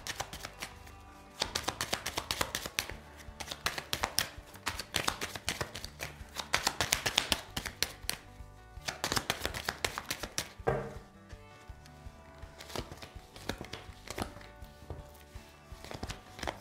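A deck of tarot cards is shuffled close up, giving rapid crisp riffling and flapping in repeated long bursts with brief pauses between them, with no talk over it.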